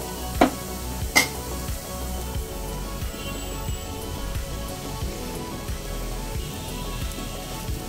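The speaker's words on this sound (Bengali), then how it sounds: "একবার নেড়ে চেড়ে সমস্ত মশলার সঙ্গে মিশিয়ে নেব" Grated boiled potato is stirred with spices in a sizzling pan. Two sharp utensil knocks sound early, then steady frying crackle and repeated scraping strokes continue.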